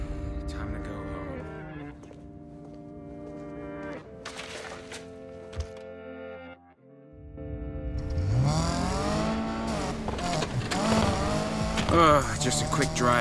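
A car drives in the Need for Speed Payback video game, with an engine that idles quietly at first and then roars louder with broadband road and engine noise, ending in sustained, close driving sound.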